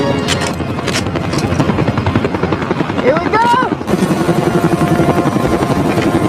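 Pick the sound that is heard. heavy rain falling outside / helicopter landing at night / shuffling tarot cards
helicopter landing at night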